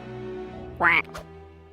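Cartoon ducks quack in an animated show, a short burst of two or three loud nasal quacks over steady background music, ending with a brief second squawk.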